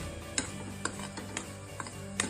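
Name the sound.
semolina (rava) being stirred and roasted in a pan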